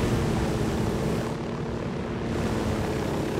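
Helicopter in the video game Ghost Recon Wildlands, a loud continuous rotor and engine drone close by, steady and unbroken with no talk.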